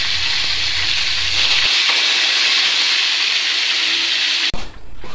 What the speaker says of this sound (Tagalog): Una, iprito muna natin ng ating tilapia